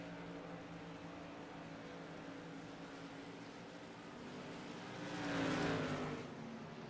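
Race cars, Tour Modified machines at Bristol, idle and run warm-up laps, a steady engine drone with one car swelling louder as it passes near, then fading.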